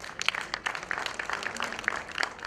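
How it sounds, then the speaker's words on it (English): Scattered hand clapping from a crowd at a trade fair in Uganda, steady and moderately loud, with no voices over it. "we applaud the permanent secretary by a loud hand clap"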